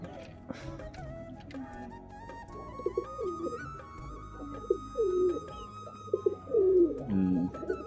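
Domestic pigeons coo in low, rolling phrases at close range, the calls growing louder and more frequent toward the end over a steady background hum.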